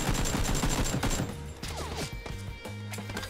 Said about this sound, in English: Oh shit, where am I getting shot from?